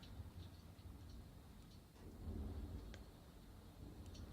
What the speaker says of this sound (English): it's raining outside right now. It's really gets stormy.